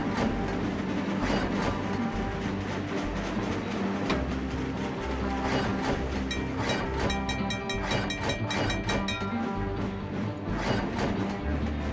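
Trains rolling along tracks in the railway simulation game Trainz, a steady loud wheel rumble with rhythmic clicking and faint metallic squeals running continuously throughout.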